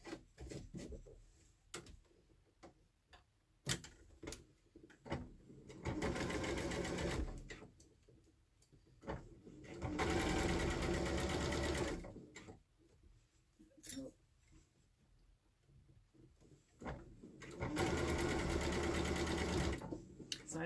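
A sewing machine stitches a quilt seam in several loud whirring runs of two to three seconds, separated by quieter pauses with light ticks and handling clicks.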